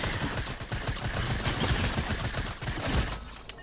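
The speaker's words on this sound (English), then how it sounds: "I take out a suppressed SMG" A suppressed SMG in Fortnite fires rapid bursts of muffled, clattering shots in a fast continuous rhythm, close and dense with no pauses, and no talking.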